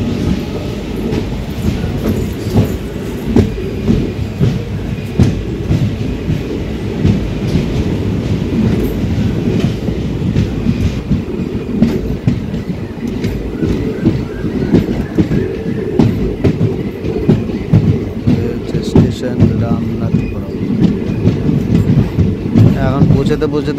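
A train rolls along the rails toward Rameswaram in Tamil Nadu, giving a loud, continuous rumble with steady wheel clatter that lasts the whole stretch and never breaks.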